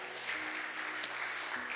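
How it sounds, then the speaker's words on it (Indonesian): Faint, distant clapping from a church congregation during a sermon, a brief wash of applause over a low hum. "Tepuk tangan dulu buat Tuhan Yesus saudara"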